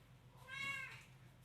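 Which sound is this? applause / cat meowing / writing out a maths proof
cat meowing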